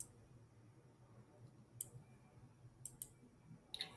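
A computer mouse clicks a few times, sharp and isolated, against a quiet room hum, with clicks landing at irregular intervals and one quick double click near the end.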